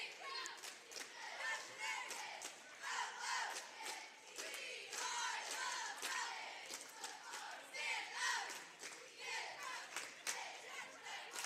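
Basketball crowd chanting for GCMS during a high school game between the Gibson City Falcons and Heyworth, a dense, continuous roar of many voices with rhythmic shouted bursts, steady and fairly loud throughout.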